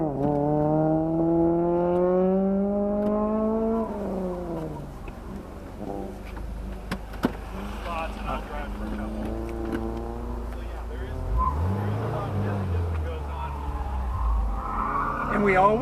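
Mitsubishi Evo on a race track, its engine note rising and falling in sweeping tones as the car is set up and taken through a turn, loud and close with some talk over it.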